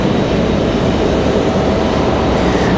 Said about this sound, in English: Got an American Airlines coming back this way